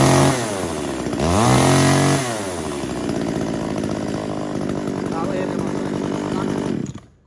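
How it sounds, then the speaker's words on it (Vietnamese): A Makita MEA333T top-handle chainsaw with chain brake, 33cc with 37 mm bore, runs up to a loud high rev, then settles back to a steady idle before cutting off abruptly at the end. "Tay cụt Makita MEA333T có phanh xích"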